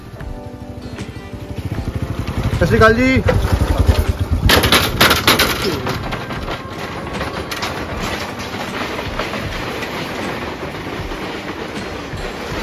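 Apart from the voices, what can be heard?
motorcycle riding across a wooden bridge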